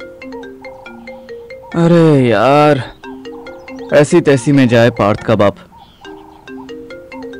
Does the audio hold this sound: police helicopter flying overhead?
no